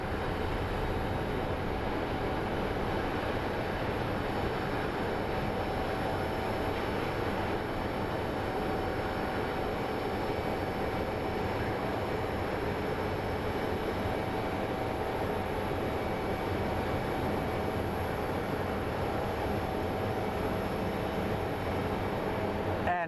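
A large airliner takes off at Phoenix Sky Harbor airport, bound for London: a steady, loud, broadband jet roar that holds constant and close throughout, with no talking.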